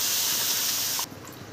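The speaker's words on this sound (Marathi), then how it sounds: "थोडं पाणी टाकूया।" Water poured into a simmering vegetable curry gravy in a pot, producing a loud steady hiss of steam that cuts off abruptly after about a second, leaving a quieter bubbling tail.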